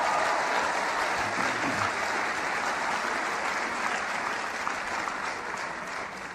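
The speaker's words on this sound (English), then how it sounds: "Give yourselves a round of applause." A live audience at a motivational talk bursts into applause: dense, steady clapping that fills the room and holds throughout, easing slightly toward the end.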